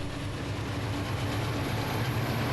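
A train rolls past on rails with a steady rumbling roar and faint clatter of wheels, close and continuous without pause.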